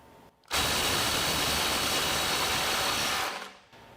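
Milwaukee M18 FUEL 2853 impact driver loosening a fastener that breaks free, one loud, dense burst of hammering that runs about three seconds and then winds down, close and alone.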